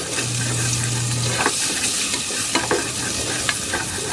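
Ginger root frying in a little hot oil, a steady close sizzle throughout with a few soft stirring clinks and a faint low hum.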